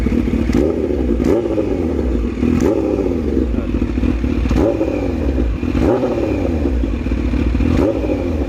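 A Kawasaki Ninja H2 motorcycle engine revving repeatedly to about 4,000 RPM, loud and close, with rhythmic rising surges roughly every second over a constant throbbing idle.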